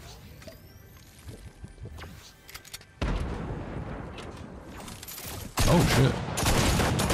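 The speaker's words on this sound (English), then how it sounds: "the heavy assault rifle is here" Fortnite heavy assault rifle gunfire in rapid bursts, growing louder and denser midway, with a heavy sustained barrage near the end and a player's voice speaking briefly over it.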